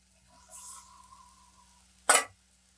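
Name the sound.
masala-marinated mushrooms frying in hot oil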